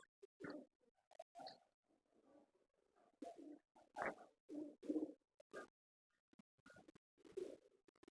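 Soft Teddy King pigeon cooing in short, repeated phrases with quiet gaps between them, close by and alone.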